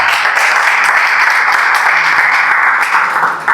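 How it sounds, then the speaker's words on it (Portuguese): A church congregation applauds in a steady, loud wash of clapping that fills the room evenly from start to finish, with no clear speech over it. "Você pode aplaudir Jesus?"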